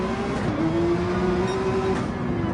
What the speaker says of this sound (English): Very quick into the turn is Callum, hard on the brakes